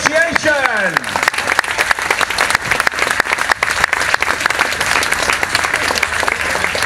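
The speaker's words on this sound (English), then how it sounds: "Let's give all these reenactors a really good round of applause." An outdoor crowd at a 1940s weekend event applauds World War II reenactors, loud close clapping sustained throughout, with a voice heard briefly at the start above it.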